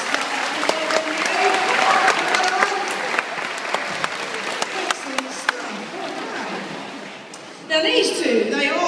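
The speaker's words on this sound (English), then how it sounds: "give them both a big round of applause" Audience applause for two performing sea lions at a show, broad and lively with scattered sharp claps and a little laughter, tapering before a voice and a brief burst of other sound near the end.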